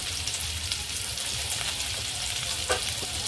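Ten to fifteen garlic cloves sizzling and frying in a pan with long-sliced onion for butter chicken, a steady close crackle with a few sharper pops and stirring sounds.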